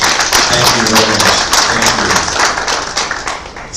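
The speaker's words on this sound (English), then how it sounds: "Please, a round of applause for the event." Applause at an agricultural business event: a crowd claps in a dense, close patter of many hands that fades slightly toward the end.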